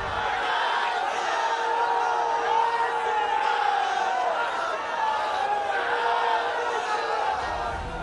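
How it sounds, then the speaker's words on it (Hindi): A large rally crowd in Bolpur, West Bengal, chants slogans together in loud rhythmic waves, voices rising and falling over a constant roar of many people outdoors. "भारत माता की जय और जय श्री राम के नारे लग रहे थे।"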